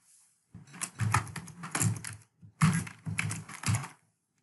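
Typing a project name on a computer keyboard, two close, quick bursts of key clicks with a short pause between them and quiet before and after.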